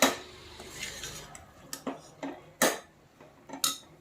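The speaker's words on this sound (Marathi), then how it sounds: "थोडी भाजूया वांगी आपण यामध्ये." Stuffed eggplants, coated in an onion and beetroot masala, are stirred and roasted in a pressure cooker, with a series of sharp metal utensil clinks and scrapes against the pot, close and irregular, over a quiet background.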